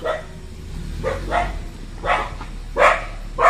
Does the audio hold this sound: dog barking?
yes